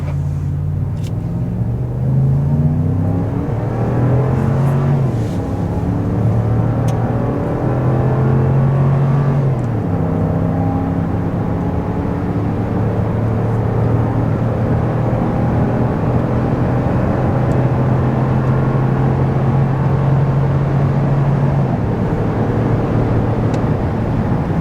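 A pickup truck pulling a trailer accelerates hard from 0 to 60 mph, its loud engine note climbing repeatedly through the gears with a steady road rumble underneath, no voices.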